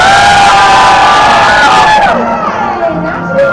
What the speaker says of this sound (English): Nice cheering